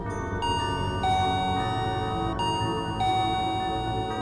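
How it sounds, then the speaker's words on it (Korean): A doorbell chimes indoors, a ding-dong tone that rings out several times in succession with short gaps between presses. "또다시 초인종 소리"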